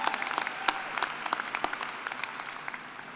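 Audience applause at a university graduation ceremony, a moderately distant wash of many hands clapping with sharp individual claps poking through, steady and fading slightly toward the end.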